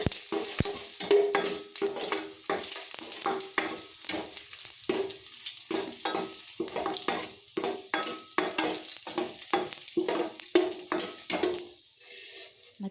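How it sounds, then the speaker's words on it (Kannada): Garlic frying in hot oil in a pan for an okra curry, with a steady sizzle broken by repeated scraping stirs of a spoon against the pan, close and fairly quiet. "ಎಣ್ಣೆ ಬಿಸಿ ಆದಮೇಲೆ ಸ್ವಲ್ಪ ಬೆಳ್ಳುಳ್ಳಿಯನ್ನು ಹಾಕ್ಕೊಳ್ಬೇಕು"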